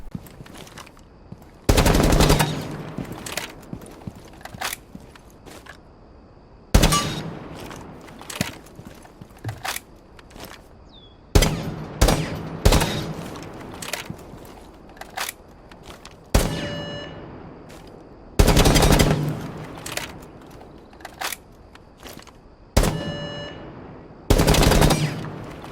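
Thermite's assault rifle in Rainbow Six Siege firing in loud, close bursts, a handful of sustained automatic volleys separated by short pauses, with no talk over it.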